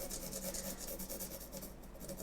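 A pencil worked back over paper in a mixed media still-life drawing with paint and charcoal: quiet, close, rhythmic rubbing strokes repeating steadily, with no voices.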